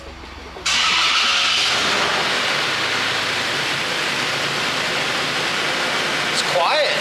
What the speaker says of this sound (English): We're gonna fire this thing up and hear how it sounds.